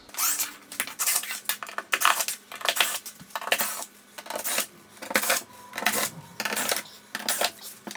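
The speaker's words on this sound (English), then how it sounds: "go all the way around the outside edges and undo all the screws" Screws being undone around the edges of a tumble dryer's back cover, a close series of rhythmic metallic ratcheting and scraping bursts repeating every half second or so, with no talking.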